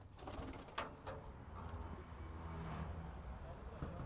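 An Anatolian racing pigeon coos in short soft bursts near the recorder, over low rumbling background noise.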